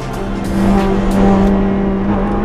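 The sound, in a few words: GT race cars starting a race at Dijon-Prenois circuit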